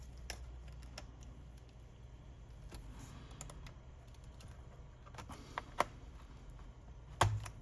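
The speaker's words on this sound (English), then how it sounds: "we're gonna be lifting the keyboard now" A laptop keyboard is lifted during disassembly, with faint scattered clicks and plastic snaps over a low hum and a sharper clack near the end.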